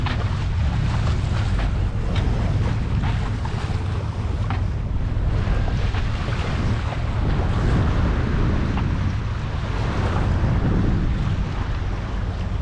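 A sailboat heading toward Sanary-sur-Mer rolls through sea waves, with continuous wash and slapping of water against the hull under heavy wind rumble on the microphone, loud and steady throughout.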